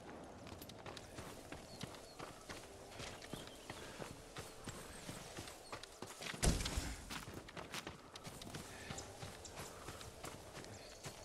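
Hooves of a farm horse clip-clop at a slow walk in the video game Ghost of Tsushima, soft and steady, with one louder thump partway through and quiet ambient sound around them.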